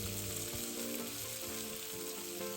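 Sliced onions stir-fry in a pan until lightly charred, giving a dense, steady sizzle with soft periodic scrapes of the spatula, heard close and unaccompanied by speech.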